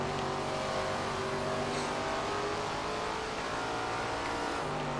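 Super late model race car at Honeysuckle Grove Speedway, its engine droning loud and steady throughout, close by with a continuous mechanical roar and no talk.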